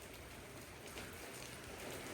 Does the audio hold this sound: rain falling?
yes